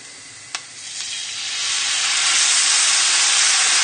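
Stock poured into a hot pan of chorizo and chicken rice, starting with a brief clink, then a sizzle that swells into a steady, loud hiss of steam and frying with no voices.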